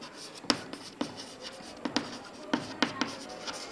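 Pen strokes scratch across paper while an amount is written into a partnership accounting ledger, a series of short sharp ticks and scrapes in an irregular rhythm, close and fairly quiet with no talking.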